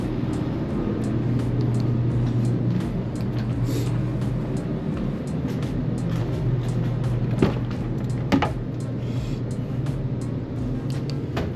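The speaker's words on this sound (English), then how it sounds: "I have my Salamander going over there." A salamander heater runs steadily in a cold garage, a constant low roar and hum filling the space throughout, with a couple of faint clicks or knocks near the end and no talking.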